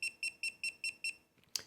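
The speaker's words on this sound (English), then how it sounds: "There fortunately is a button to turn the alarm off" A Marc André Century Centurion humidor's sensor sounds its low-battery alarm: six evenly spaced, sharp electronic beeps in a quick steady rhythm, close and clear, followed by a brief click.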